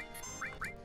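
Two quick rising honking squawks come from a giant chicken creature in Final Fantasy 7, close and clear over a faint game background.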